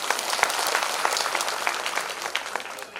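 An audience at a Shiv Mahapuran religious discourse in a village gathering claps together, a dense, steady wash of many hands that continues throughout and thins slightly at the end.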